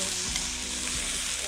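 Baguette pieces sizzle in melted butter in a pan over a campfire, a constant close frying hiss with faint low knocks, and no talking.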